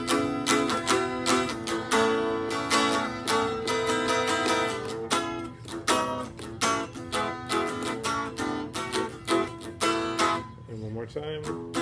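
Acoustic guitar strumming the chord part of a song in rhythmic choppy strokes, with a sliding descending line at the end, loud and close.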